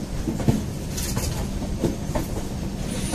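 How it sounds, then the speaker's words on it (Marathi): The Haripriya Express passenger train at Belgaum railway station rolls past nearby with a steady rumbling and clattering of wheels on rails, with no talk. "ये है आमची ट्रेन"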